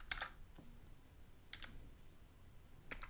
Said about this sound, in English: so I can type right and we just press tab